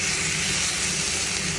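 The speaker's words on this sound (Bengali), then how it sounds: "ভাজা ভাজার পরে এখান থেকে চিকেনটা দিয়ে দিলাম" Chicken pieces fry in a hot pan with an intense, steady close-up sizzle and hiss, continuous and without talk.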